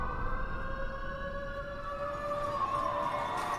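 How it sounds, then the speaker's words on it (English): Siren effect in a song, a steady wailing tone that slowly bends in pitch and holds throughout, layered over a dense, continuous musical backdrop with no talking. "There's always a siren, I swear,"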